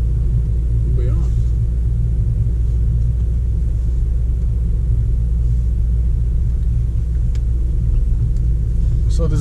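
A 2019 Mercedes-AMG GT 63 S four-door idles and rumbles in Sport Plus mode as it backs out of a garage, a steady deep engine drone that stays loud and close throughout.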